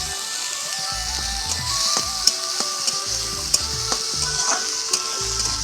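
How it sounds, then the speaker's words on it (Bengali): Chopped green chillies and tomato frying in hot oil for kanda poha, a steady close sizzle with scraping stirring strokes and light utensil taps throughout, no voices. "এরপর আমি এখানে লঙ্কা কুচিটা দিয়ে দিচ্ছি। আর এরপরেই টমেটো কুচিটাও এখানে দিয়ে দেব।"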